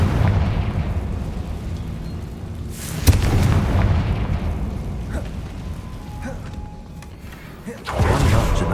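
Confringo blasting spell explosions in the Hogwarts Legacy video game: a loud, rumbling blast bursts out near the middle, and a second erupts near the end over a constant low, noisy game background.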